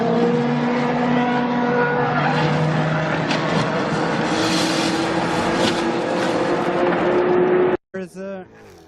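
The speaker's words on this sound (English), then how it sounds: "Oh, an impact! What a crash!" At a racetrack, a racing car crashes, giving a loud, continuous roar of engine and skidding tires that holds for several seconds. An excited commentator talks over it, then is heard briefly alone after a sudden cut.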